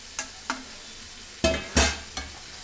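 Yogurt-coated eggplant and tomato dropping into a hot pan, a couple of loud bursts of sizzle and spatter between a few lighter taps and scrapes, close and brief.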